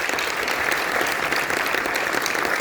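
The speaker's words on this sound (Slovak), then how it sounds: "Potlesk." Audience applause fills a hall after a brass band introduction, a steady dense wash of many hands clapping close and loud throughout with no break.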